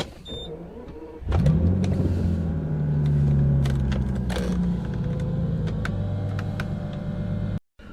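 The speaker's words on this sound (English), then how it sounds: "let's hop in the car, have a nice cold start up and take it for a spin" A Bentley cold-starts with a loud rising crank and catch, then settles into a steady, close engine idle with a deep rumble that runs for several seconds before cutting off abruptly.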